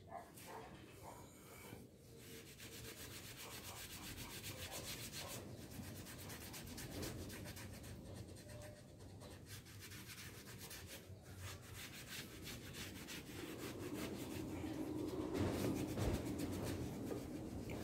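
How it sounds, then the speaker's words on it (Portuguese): Steady rubbing of a cloth working wax onto a worn motorcycle part, a continuous close scrubbing texture that swells louder toward the end, with no talking. "E vocês vão esfregar a cera na peça."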